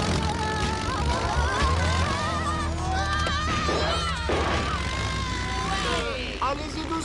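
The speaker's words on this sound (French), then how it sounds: "l'avion de Funky." A propeller airplane in a Donkey Kong Country cartoon drones loudly and continuously, with voices talking and cartoon effects layered over the engine throughout.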